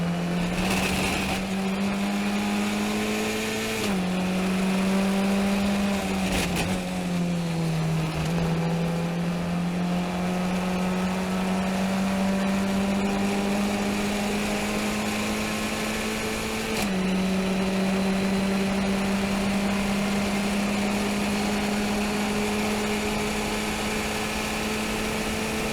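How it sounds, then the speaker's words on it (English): Race cars at Virginia International Raceway during a race, a steady loud engine drone with shifting pitch as cars run close together, occasional gear changes and passes, continuous with no talk. "The Pelfrey car takes Ryan's position."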